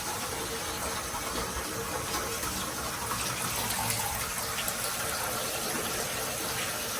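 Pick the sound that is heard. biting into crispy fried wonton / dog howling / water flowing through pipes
water flowing through pipes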